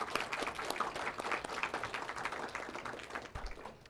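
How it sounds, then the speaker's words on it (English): An audience at an evening recognition ceremony applauds families and supporters, a steady wash of many hands clapping continuously, moderately loud and fairly close, with no voices over it. "Let's give your families and support a round of applause."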